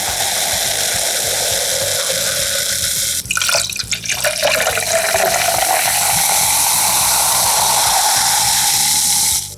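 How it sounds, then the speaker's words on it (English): A sharp crack and hiss as a can of Coke Zero opens, followed by a steady fizzing pour of liquid that continues loudly to the end. "The cracking open of a beverage."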